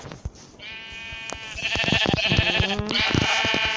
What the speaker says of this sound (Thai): หาแกะ